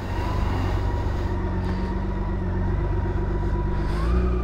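A BMW K1600B motorcycle idles and pulls away for a test ride after a reverse-unit repair, its engine giving a steady loud drone with a slight rise in pitch toward the end.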